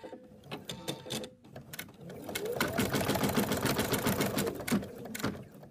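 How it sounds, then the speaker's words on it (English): An embroidery machine stitches a placement line for a teddy bear's arm, a brisk rapid mechanical clatter that starts after a few scattered ticks and runs steadily, fairly close. "The next stitch out is the placement for the arm."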